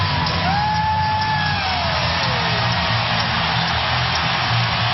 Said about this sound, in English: And a crowd fired up.